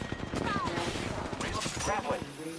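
Enemy gunfire in the Apex Legends battle royale game crackles in rapid, overlapping bursts like fusillades and automatic fire, loud and close and continuous for a few seconds, with occasional short tonal game cues mixed in.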